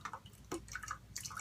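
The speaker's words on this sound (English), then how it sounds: "because you can hear them dripping in the background." Water drips from two wet shaving brushes nearby, a few soft irregular drops in a quiet room.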